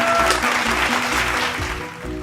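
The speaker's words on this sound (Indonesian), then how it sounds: "Tepuk tangan saudara-saudara." Dense, steady applause from a studio audience at an Indonesian chit-chat show with Epy Kusnandar, holding close and full for about two seconds with a faint tonal hum underneath.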